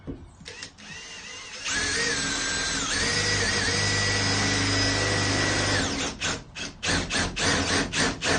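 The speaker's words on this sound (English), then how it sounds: "Making a hole in a perfectly good van." A power drill bores holes through the metal roof of a Sprinter camper van for a roof fan and skylight, a loud close whine held for several seconds after a few short bursts, then choppy stop-start drilling.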